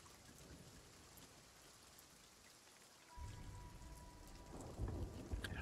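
Heavy rain pours steadily during a thunderstorm in the pirate game Sea of Thieves, and partway through a deep rolling thunder rumble swells up beneath the downpour and grows louder, with no voices.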